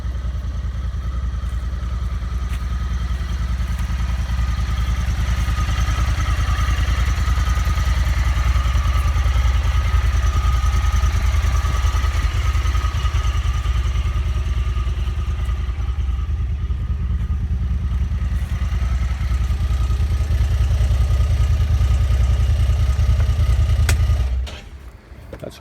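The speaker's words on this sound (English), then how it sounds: "Start it up so you guys can actually hear it run for a minute." A Honda Talon X4 SE side-by-side starts and settles into a steady, loud idle close by, a low rumbling drone with light mechanical clatter that holds for about twenty-four seconds before cutting off.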